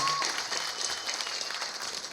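Audience applause at a Tamil film event fills the hall as a steady, dense wash of clapping that holds at an even level throughout.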